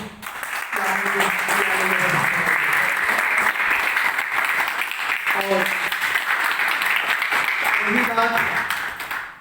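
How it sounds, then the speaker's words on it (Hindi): A crowd at a company training program claps loudly and continuously while someone speaks over the applause at several points. "सभी लोग इतनी जोरदार तालियां बजाएं"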